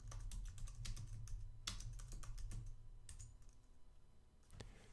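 A command typed on a computer keyboard at a Linux terminal, a quick close run of crisp clacking keystrokes in bursts with short pauses, alone without talk.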